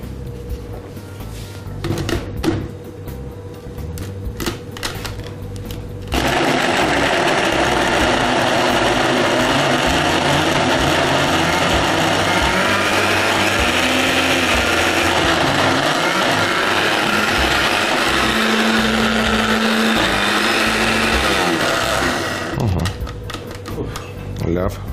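Ingredients with a little olive oil are beaten with an electric mixer. The motor whirs loud and steady for about seventeen seconds, with softer kitchen sounds before and after it.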